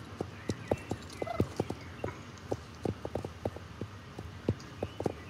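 Pony hooves trotting in the Star Stable Online video game, a crisp, evenly paced clip-clop of hoofbeats close up over a faint background, no talking.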